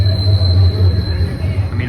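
A TTC subway train rolls through a sharp curve between Union and St. Andrew stations late at night, wheels squealing in a steady high whine over the loud rumble of the car underneath.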